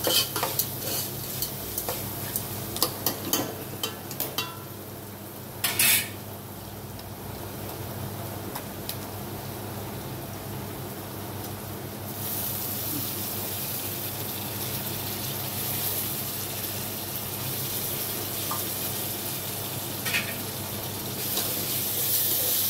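Curry leaves go into a hot pan with an egg semiya mix and are stirred, giving a loud crackling sizzle with bursts of scraping at the start that settles into a steady fry.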